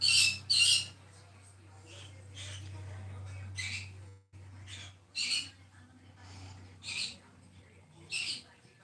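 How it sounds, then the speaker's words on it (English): A pet bird squawks loudly and repeatedly in harsh, shrill bursts every second or so, close by, over a steady low hum and some quiet background talk. "please pardon the bird having an absolute meltdown in the background"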